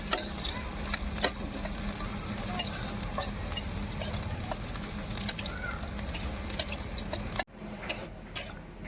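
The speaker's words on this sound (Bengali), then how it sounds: "পেঁয়াজটা ভাজা হয়ে গেছে" Onions frying in a pan for a vegetable curry, a dense close sizzle with busy stirring scrapes and clinks throughout, cutting off abruptly near the end and leaving a quieter crackle.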